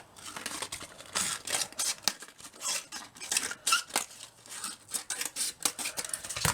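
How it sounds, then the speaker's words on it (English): Scissors snip through paper for a handmade paper dress, a run of crisp close cuts and rustles in uneven bursts with no talking. "We just cut right up the middle."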